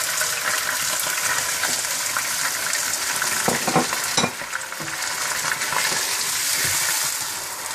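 Loud, steady sizzling of chicken and yogurt added to frying onions in a pan for degi chicken biryani, with a few scraping stirs and a brief watery splash partway through.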